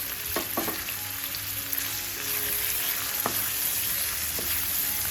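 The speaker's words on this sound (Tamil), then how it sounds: "இந்த வெங்காயம் நல்லா ஃப்ரை ஆகட்டும்" Sliced onions fry for an egg masala, giving a continuous close sizzle and crackle in the pan with a few brief clinks and scrapes from stirring.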